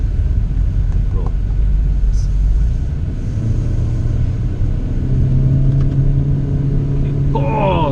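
A 2019 Proton Iriz 1.6 accelerates on a short test drive, its engine a steady, heavy rumble that rises in pitch toward the end, with someone talking over it.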